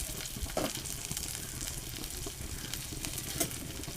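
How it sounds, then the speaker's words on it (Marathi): White onion fries in a pan with a dense, steady sizzle and faint stirring scrapes. A voice speaks briefly over the cooking noise. "कांदा चांगला परतून घेऊ."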